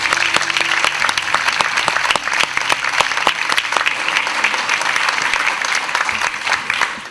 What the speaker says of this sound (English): could we all just give Mazia another round of applause for this?